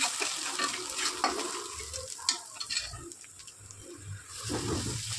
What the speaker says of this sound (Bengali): 1 টেবিল চামচ লঙ্কা গুঁড়ো, 1 টেবিল চামচ হলুদ গুঁড়ো, 1 টেবিল চামচ জিরে গুঁড়ো, পরিমাণ মতো নুন দিয়ে মশলাটা একবার নাড়িয়ে নিলাম